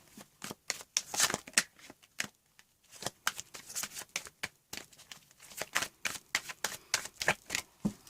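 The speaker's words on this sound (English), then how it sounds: "I'm just going to do a couple more shuffles" Tarot card shuffling, a series of crisp riffling bursts with brief pauses between them, close up and fairly quiet, with no voices.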